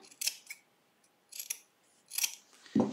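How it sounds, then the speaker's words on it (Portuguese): Scissors snip thread while a baby's shark trousers are being sewn, three quiet bursts of short crisp cuts spaced about a second apart, close and alone, with a soft thump at the end. "Aí eu corto, cortei, cuidando para não cortar a linha."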